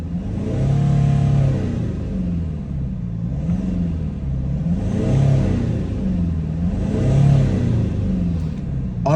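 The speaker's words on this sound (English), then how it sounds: "People love Mercedes when they rev." Parked 2012 Mercedes-Benz C250 with a 2.2-litre diesel engine, revving repeatedly: loud, close rumbling surges rising and falling roughly every two to three seconds over a steady idle drone, with no voices.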